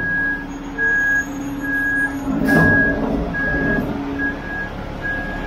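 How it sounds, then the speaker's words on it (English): A truck reverses into an open garage bay while storm chutes are fitted, its backup alarm beeping in a steady, evenly spaced rhythm over idling engine rumble and a brief hiss of air. "Bring the truck into place."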